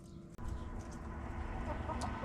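Backyard chickens softly clucking while pecking at an opened bag of black soldier fly larvae, with faint low calls over a steady outdoor background.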